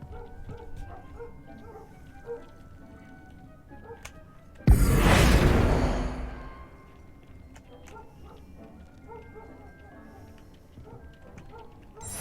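A dog in the video game Hogwarts Legacy gives a loud, broad burst of barking near the middle, set against a quieter game background with scattered small sounds before and after.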